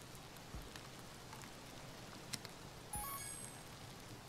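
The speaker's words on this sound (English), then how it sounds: "Oh, good, it's raining." Rain falls in the Stack Island survival card game as a faint, steady patter, with a few soft clicks and short chime-like interface tones over it.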